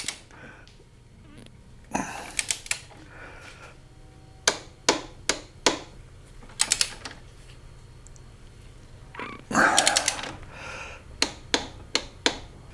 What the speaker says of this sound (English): Both of these will torque to 65 foot-pounds, which is what I've got my wrench set to.